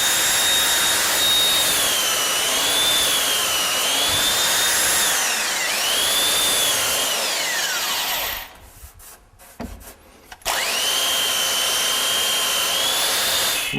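A power sander runs loud and close along a utility cabinet edge guided by a clamped metal straightedge, its whine shifting in pitch as it works, then pausing briefly with small handling noises before starting up again.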